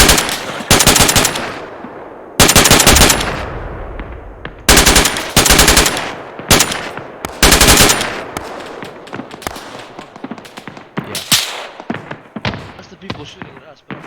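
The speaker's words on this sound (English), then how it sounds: "That's the people shooting at us" Bursts of automatic gunfire in the Arma 3 military video game, loud close rapid volleys in repeated clusters, fading toward quieter scattered shots, with voices talking between them.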